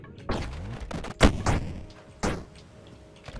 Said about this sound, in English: Just gotta practice using the shotgun